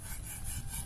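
Butcher's knife drawn across a Japanese Imanishi Arashiyama 6000-grit whetstone with only light hand pressure, a steady close scraping rub filling the short stretch with no talk.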